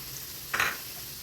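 Ground coriander, cumin and Kashmiri chilli powder fry in a pan with a steady low sizzle and one brief, brighter hiss burst midway.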